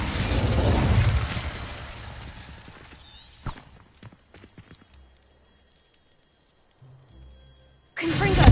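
A fire spell cast in Hogwarts Legacy: a loud roaring whoosh of flame at the start that fades over a few seconds, followed by quieter clicks and faint noises, then a sudden loud burst at the end.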